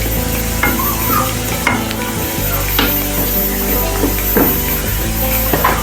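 Garlic and spices sizzle steadily in hot oil for a dal tempering, a loud continuous crackle with occasional scrapes and stirs of a spoon, close by.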